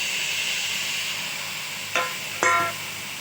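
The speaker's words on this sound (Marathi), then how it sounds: "आता आपण तुरीचे दाणे भाजून घेऊ" Pigeon pea grains dry-roasting in a pan give a steady, close hiss, broken near the end by two short scraping clatters from stirring.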